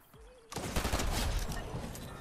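Rapid bursts of gunfire from a Fortnite match, starting abruptly after a quiet moment and continuing loud and dense to the end, with a sustained clatter of shots filling the mix.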